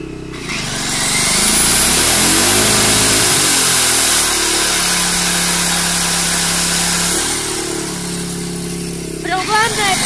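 An Einhell BT-PG900 petrol generator running under an 1100 W load, a steady loud engine drone that shifts pitch as the load changes, with someone talking over it.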